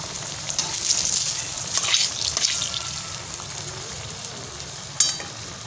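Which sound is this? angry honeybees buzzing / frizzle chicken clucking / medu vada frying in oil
medu vada frying in oil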